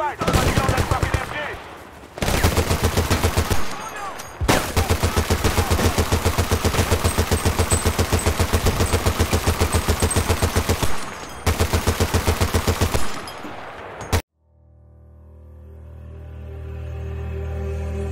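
Sustained heavy bursts from a mounted machine gun in the Battlefield: Bad Company 2 war game, loud and rapid with short pauses between long volleys, ending abruptly in a low rumbling roar.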